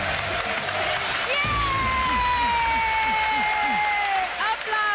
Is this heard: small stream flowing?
no